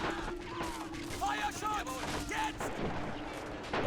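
Battlefield gunfire from a Men of War: Assault Squad 2 game battle, several sharp shots and bursts scattered over a steady rumble, with a voice talking underneath.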